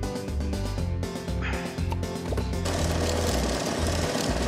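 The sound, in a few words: drilling a hole in the CaveDigger video game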